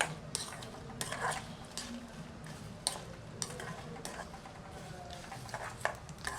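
Curry leaves and dried red chilies sautéing in a pan, heard as irregular clinks and scrapes of a utensil against the pan over a soft background hiss, with sharp taps scattered through the stretch.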